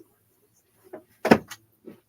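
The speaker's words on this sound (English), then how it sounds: "All right, shut that door." A door in a home is pushed shut, heard as a soft creak followed by a sharp thud and a brief rattle, with faint movement before and after; no talking.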